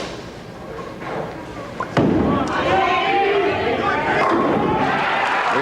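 A bowling ball thrown hard into the 1-3 pocket at a 1988 PBA tournament match, striking the pins with a sudden crash followed by a sustained clatter and loud crowd noise.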